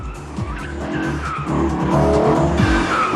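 Hartge-tuned BMW driving hard on wet pavement, its engine roaring loudly and steadily with tires squealing and skidding, the revs rising and falling close by.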